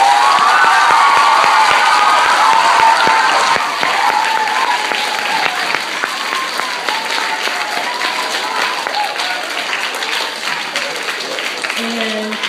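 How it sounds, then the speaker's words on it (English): A big crowd applauds and cheers for teachers, loud dense clapping with shouting voices, including children's, at first, then gradually thinning as it goes on. "Let's give one super big round of applause for the teachers."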